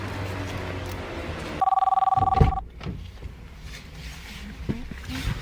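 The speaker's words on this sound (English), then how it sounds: "Who is calling my phone?" A mobile phone rings out in a short run of repeated electronic trill bursts lasting about a second, loud and close, then cuts off into a quieter indoor room with faint shuffling.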